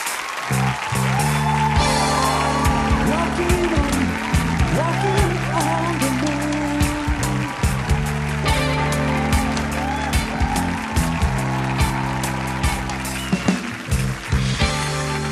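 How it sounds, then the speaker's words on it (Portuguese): A studio audience on a Brazilian talk show applauds as a physicist and science communicator comes on, a long, steady wash of clapping from many people that runs under background music with sharp accents for roughly fifteen seconds. "Recebam, com seu melhor aplauso, o físico e divulgador científico Marcelo Gleiser."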